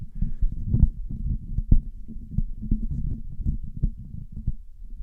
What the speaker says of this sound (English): Let's do a handling noise test